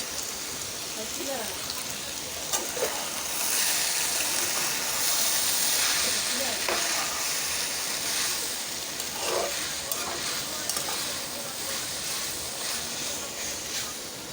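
Onions frying in oil in a pan with salt and green chilli added, a continuous close sizzle and crackle with occasional utensil taps, fairly even throughout.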